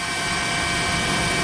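A news helicopter flies over the tsunami-struck area near Sendai, Japan, after the 2011 earthquake, its rotor and engine making a loud, constant drone with no talk.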